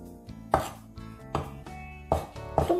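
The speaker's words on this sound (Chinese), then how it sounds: "冬菇切幼粒" Soaked shiitake mushrooms are diced finely with a knife on a cutting board: several sharp, close chops at an uneven pace, sounding over a steady tonal background.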